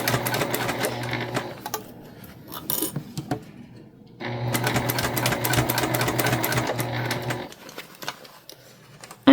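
A sewing machine stitches through the thick seam of a quilted fabric basket, running in two steady bursts separated by a pause with small clicks and handling noises, close and fairly loud.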